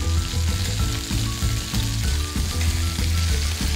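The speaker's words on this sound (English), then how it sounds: "I'm going to put my chicken skin side down, always. Skin side down, and you want to hear that sound." Chicken pieces laid skin side down in olive oil over medium-high heat, sizzling and frying steadily and loudly up close, with a dense continuous crackle and no talking.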